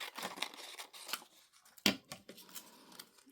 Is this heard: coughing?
no